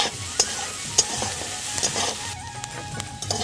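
Vegetables frying in butter with a little salt, stirred in a pan: a steady close sizzle broken by several sharp scrapes and clinks of the spoon against the pan, with no talk.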